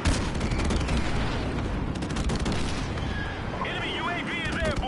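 Desert Eagle pistol fire in the video game Modern Warfare Remastered comes as loud, dense gunfire with booming reports, mixed with other game noise and voices. Brief chirping electronic tones appear near the end.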